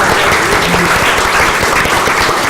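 An audience claps for a panel speaker after a talk on building culture, a loud, continuous burst of applause lasting a couple of seconds.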